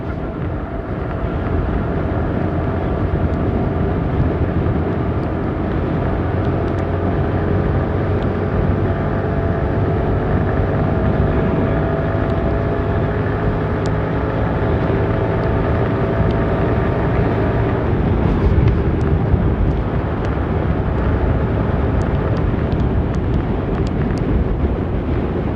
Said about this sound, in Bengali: হাওয়াটা খুব লাগছে, প্রচণ্ড হাওয়া